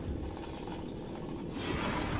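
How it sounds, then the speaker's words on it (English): Chains clank and ratchet steadily as a torpedo is hauled out of its hatch aboard a submarine in Uboat, with a continuous grinding mechanical rattle and no talk. "After that, use the chains to pull out the torpedo."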